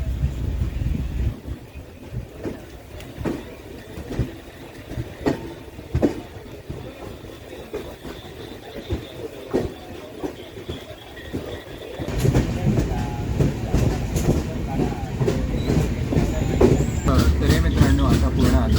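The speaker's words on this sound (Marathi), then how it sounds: "गाईज आता ट्रेनने आपलं डिपार्चर घेतलं आहे." A Jan Shatabdi Express pulls out of Chiplun in the rain at dusk, a steady close rumble with repeated wheel clacks that swells louder partway through.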